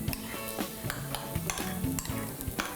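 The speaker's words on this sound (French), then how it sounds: "Là, je vais le mélanger." A burger mixture seasoned with oregano, salt and pepper being stirred in a bowl, with repeated soft clinks and scrapes of a utensil over a steady background hiss.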